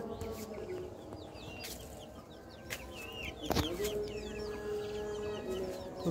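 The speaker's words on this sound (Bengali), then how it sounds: "তো আপনাদেরকে দেখাচ্ছি আমার মুরগিগুলো।" Tiger chickens in a backyard chicken house cluck and chirp steadily at moderate distance over a constant low hum of farmyard background noise, with one sharp knock partway through and no voices.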